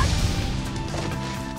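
A heavy smashing impact from the Shatter Apart attack used by the character Nagato in the video game Naruto Storm Connections, a loud dense crash and rumble that holds steady without pause.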